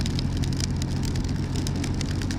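Heavy rain in Scotland makes a steady, dense hiss with scattered drop patter, continuous and fairly close, with no voices.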